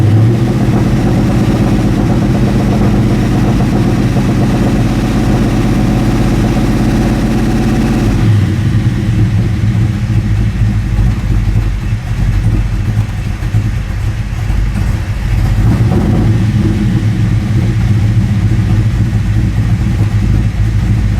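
A Ford Falcon coupe's 351 Cleveland V8 idles loudly and up close with a deep, steady rumble, its tone dropping and roughening after about eight seconds as the idle shifts.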